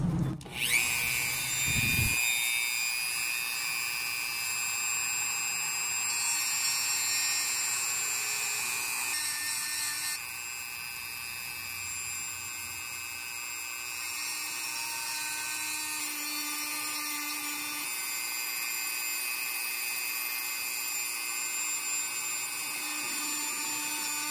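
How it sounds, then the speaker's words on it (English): A Dremel rotary tool grinding down the heads on a Fighting Rooster knife, a steady high-pitched whine running continuously over the clip after a brief knock at the start. "We're going to try to grind the heads down with my Dremel tool."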